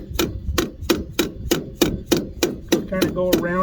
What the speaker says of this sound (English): we'll take our soft hammer and we'll tap that right back on there